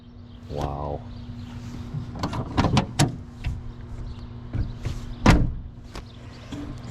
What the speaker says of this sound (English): Let's get one of them like new car door closes